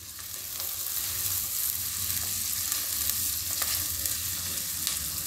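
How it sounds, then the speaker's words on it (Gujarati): Capsicum frying in a pan for masala pasta, a steady crackling sizzle with faint stirring scrapes, close and continuous with no talking. "હવે એમાં આપણે કેપ્સિકમ નાખી દઈશું. આને થોડીક વાર પાકવા દઈશું."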